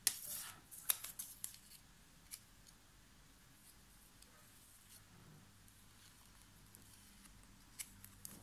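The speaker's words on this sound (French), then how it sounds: "Et on peut le couper en deux également." Scissors cut through a piece of lace, giving a few sharp close snips and rustles at the start, then mostly quiet room tone with an occasional faint click.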